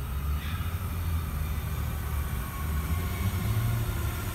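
A train departing at Janalli, a steady low rumble of wheels and heavy engine drone with faint squeals above, loud and continuous throughout without any talk.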